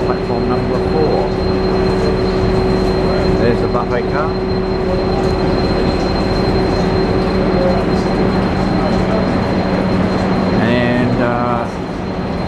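A train stands at platform 4 of Ipswich Station, its steady loud rumble and a constant tonal hum running throughout, with a brief squeal near the end as someone talks over it.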